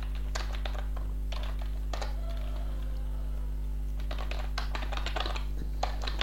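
Computer keyboard clattering in quick bursts of keystrokes while code is typed, with pauses between runs over a steady low hum.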